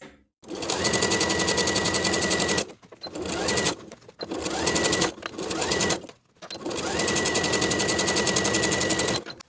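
A sewing machine stitches a jeans waistband in long, rapid, steady runs, stopping briefly between bursts, loud and close with no talking.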